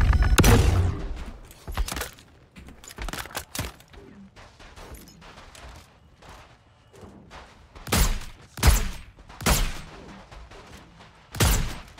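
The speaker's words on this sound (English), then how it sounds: "Jin, you're using a laser weapon." Laser weapon fire in the Star Citizen space game, sharp bright zaps and bursts in irregular clusters, loud and close, separated by quieter stretches of ship ambience.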